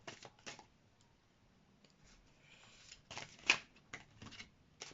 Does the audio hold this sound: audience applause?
no